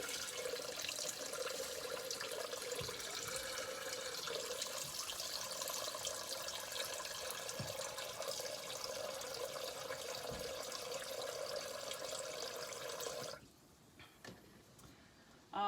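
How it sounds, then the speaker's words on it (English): Water running steadily from a tap into a Thermomix TM6 measuring jug, filling it with about a litre while camping; a continuous soft rushing that stops abruptly near the end, followed by faint handling noises. "I'm going to fill it up with about 1 litre of water"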